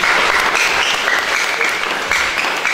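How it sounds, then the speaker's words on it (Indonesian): Steady applause from a room full of wedding guests, dense and continuous clapping at an even level for a few seconds. "Tepuk tangan untuk semua ini."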